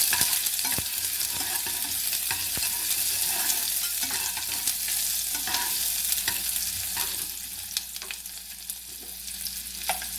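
Chopped onions fry in a pan with a steady, close hiss of hot oil, broken now and then by light clicks and scrapes of stirring.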